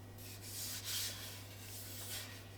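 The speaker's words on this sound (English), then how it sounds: "Sanded to 240 grit" Sandpaper at 240 grit rubs steadily across a wooden bowl, producing a soft, continuous hissing scrape with slight swells in loudness, close and quiet, with no talking.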